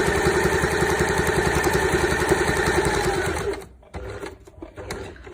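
A sewing machine stitches a zigzag seam, its fast even needle chatter steady and close, then it stops abruptly near the end, leaving quiet handling noises.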